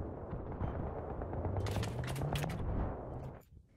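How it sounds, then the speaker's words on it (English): Rapid AN-94 rifle hip fire in a video game, loud dense bursts of shots over a busy game soundscape with no talk, fading out at the end. "Trying to hip fire with the AN-94."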